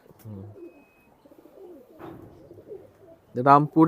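Old-generation pigeons coo in low soft bursts early on, followed by louder calls near the end, with a person speaking nearby.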